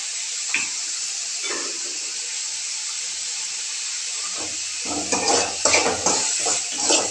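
Ingredients sauteing in a pan with a pinch of salt for wheat upma make a constant sizzling hiss, then spatula scrapes and clattering stirring against the pan grow busier near the end.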